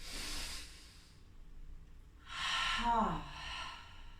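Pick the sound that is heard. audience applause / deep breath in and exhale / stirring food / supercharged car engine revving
deep breath in and exhale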